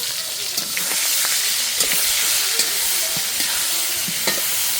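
Cabbage charchari with rohu fish head being stirred in a hot pan, a steady oily sizzle with scraping spoon strokes and small clacks running throughout at close range.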